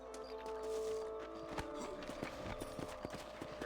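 Horse hooves clip-clop at a steady walking rhythm while riding in Red Dead Redemption, a clear, close clatter of hoofbeats over a low ambient hum.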